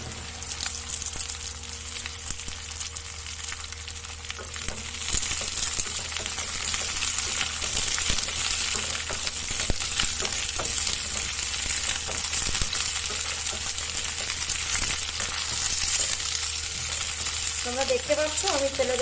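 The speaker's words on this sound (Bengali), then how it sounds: "তেল গরম হয়ে গেছে, দিয়ে দিচ্ছি ভিন্ডি।" Okra dropped into hot mustard oil in a kadai, a steady loud sizzle and crackle of frying that runs throughout, growing denser partway as the pieces settle in the oil.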